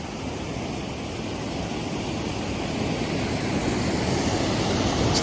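Waterfalls in Glen Etive in the Scottish Highlands, a steady broadband rush of falling water that holds at an even loudness throughout, with no voices over it.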